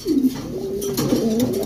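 Black net fancy pigeons coo close by in two soft, throaty rolling phrases, the second following right after the first, with no talk over them.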